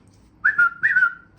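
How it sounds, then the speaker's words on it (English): A person gives a whistle signal inside a prison segregation unit: two quick, loud whistled phrases, each rising sharply and then holding a steady tone, heard alone against a faint low background. "Whistle."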